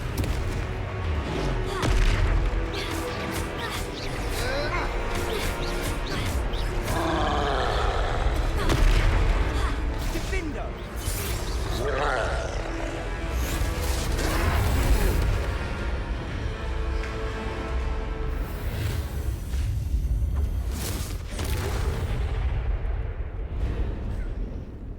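A troll battle in Hogwarts Legacy plays out as a string of booming spell explosions and heavy impacts, loud and repeated across the whole stretch, with some voices mixed into the chaotic game sound.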